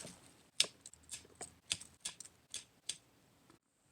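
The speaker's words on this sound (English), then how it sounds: "Step 2, cut off rosettes." Scissors snip leggy succulent rosettes in a garden bed: about ten crisp, close cuts in an uneven rhythm, quiet and alone with no voices.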